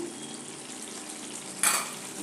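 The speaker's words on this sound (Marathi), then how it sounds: "हे असं दाबून दाबून सगळं एकजीव करून घ्यायचं" Vegetables for pav bhaji being pressed and mixed in a pan, a steady soft sizzle with scraping and stirring, then a brief louder clatter near the end; no talking.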